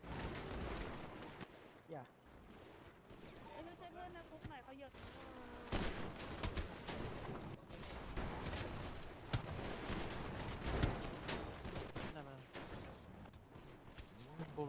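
Video-game gunfire in GTA V crackles in rapid bursts and scattered shots through a chaotic firefight, with excited players talking and shouting over it throughout.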